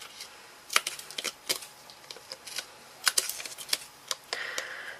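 Scissors snip and trim a piece of card for a handmade Dalek model, giving a close series of sharp, irregular crisp cuts and rustles with short pauses between them, and no talking.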